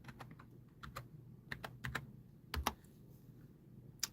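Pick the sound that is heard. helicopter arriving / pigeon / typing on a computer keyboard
typing on a computer keyboard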